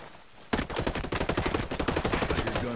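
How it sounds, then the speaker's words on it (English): Sustained automatic gunfire erupts suddenly in the video game Ghost Recon Breakpoint, a loud, close, rapid run of shots that carries on steadily to the end. "I hear gunfire."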